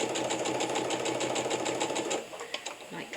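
A sewing machine stitches steadily while making bucket storage, its fast even rattle running for about two seconds and then stopping, after which quieter handling sounds remain.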